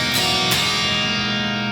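Distorted electric guitar rings out a sustained chord, with two quick strummed accents near the start and then a long, loud, steady ring-out with no voices.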